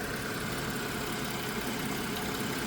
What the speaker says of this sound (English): now with the engine running